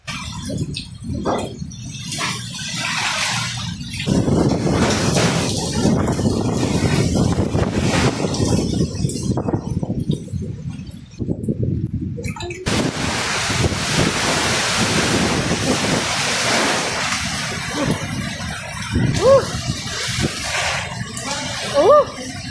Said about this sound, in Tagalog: Pagkakusugan sa hangin.